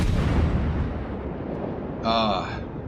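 A heavy boom from the guns of the Tier VII cruiser HMS Fiji firing armor-piercing shells in World of Warships, a loud blast decaying into rumble, with a short tonal blip near the end.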